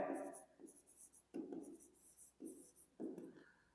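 Pen or pencil writing on paper during a Class 10 maths lesson, heard as several close, soft scratchy strokes in short bursts separated by brief pauses, with no talking over them.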